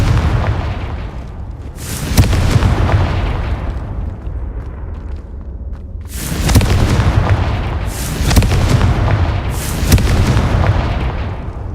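Confringo spell explosions in Hogwarts Legacy: a series of heavy, loud booms with rumbling tails. One lands early, then a cluster of several blasts follows in the second half.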